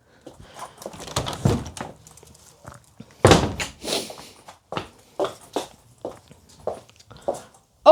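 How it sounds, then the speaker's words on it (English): A dog knocks against a door indoors, giving a series of separate thuds and bumps of uneven strength spread through the stretch, close by, with no talk over them. "my dog is knocking the door"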